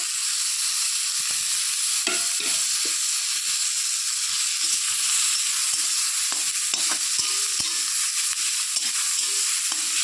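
Eggplant and gima greens fry in a pan with a steady, close sizzle, broken by scattered clinks and scrapes of stirring throughout.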